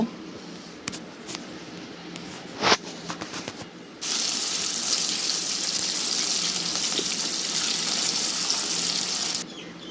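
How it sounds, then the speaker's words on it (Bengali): Tap water gushes steadily over dates being rinsed in a home kitchen, a loud continuous splash lasting several seconds after some brief clatter of utensils and dishes. "আর খেজুর ধুয়ে নিলাম এখানে"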